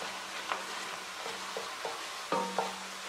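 Mushrooms sizzling in a pan with white wine as a utensil scrapes the bottom, several short scrapes and clinks over a steady frying hiss.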